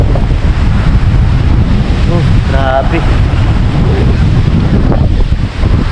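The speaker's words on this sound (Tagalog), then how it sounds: "sobrang lakas ng lakas ng hangin" Very strong wind buffets a seaside campsite by rough surf, a loud continuous roar pounding the microphone throughout, with a brief voice exclaiming partway through.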